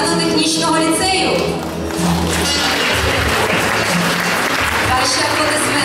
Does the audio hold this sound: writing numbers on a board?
no